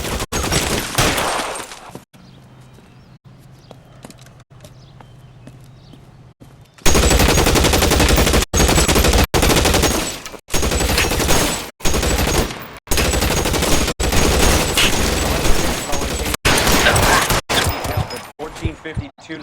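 Shootout from L.A. Noire, loud rapid bursts of gunfire in long sustained volleys broken by brief gaps, after a quieter stretch of distant scattered shots and talk.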